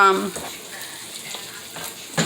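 Refried beans frying in oil in a pan with a steady, fairly quiet sizzle, and a brief clatter of smashing or stirring near the end; no one speaks.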